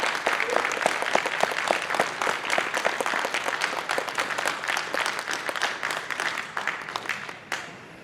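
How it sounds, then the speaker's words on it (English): Sustained audience applause at a horror host hall of fame induction, a loud, dense roar of many hands clapping evenly for about seven seconds before cutting off abruptly. "one more round of applause for Gruesome Graves"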